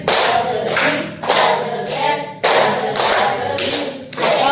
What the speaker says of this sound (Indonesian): tepuk tangan dua kali